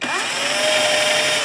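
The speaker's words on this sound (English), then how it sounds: "Change my drill bit. Let's go in here and let's just kind of keep this centered" A power drill bores into a guitar body, a loud, close, high whine running continuously and evenly from start to finish.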